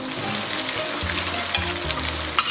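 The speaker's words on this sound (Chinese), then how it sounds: "然后再给它简单煸炒一下，" Pig intestines stir-fried in a wok with chili bean paste, giving a steady close sizzle and frying crackle with occasional scrapes of a stirring utensil, continuous for the whole stretch with no voices.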